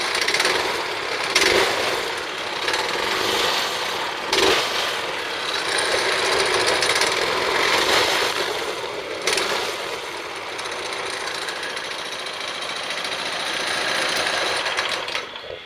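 A PowerSmart 120V portable generator runs steadily nearby with a buzzy, rattling drone, broken by a few sharp knocks and clicks.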